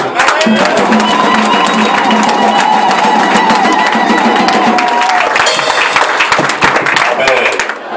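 A church congregation claps and applauds together at a worship service, a loud, dense and steady wash of hands with cheering voices and a sustained sung or shouted tone underneath, tapering slightly toward the end.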